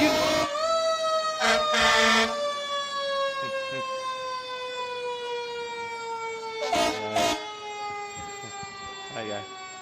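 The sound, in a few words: fire truck sirens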